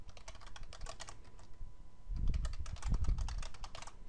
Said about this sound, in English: type in the email address you're wanting to configure